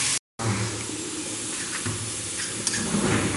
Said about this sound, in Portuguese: O alho, a cebola, o nosso molho está cozinhando.